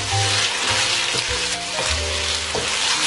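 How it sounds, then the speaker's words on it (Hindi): Prawns fry with garlic and ginger in a pan, giving a steady, close sizzle and crackle throughout, with occasional soft stirring scrapes and no voices. "इन्हें एक साइड से 1 मिनट फ्राई करने के बाद इन्हें टर्न कर देना है"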